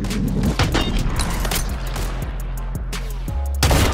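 Warzone Resurgence gunfire: rapid, loud shots and bursts, some sharp cracks and a booming hit near the end, heard close with game mechanisms and movement sounds in between.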